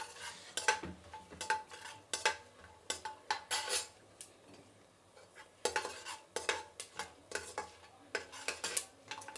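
Cashews frying in a pan while stirred: a steady run of quick metal spoon scrapes and clicks against the pan, close but fairly quiet, with light sizzle underneath and no talking.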